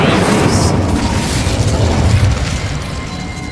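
An Incendio fire spell blast in Hogwarts Legacy lands as a loud, deep, roaring whoosh that fills the whole moment before slowly tapering off.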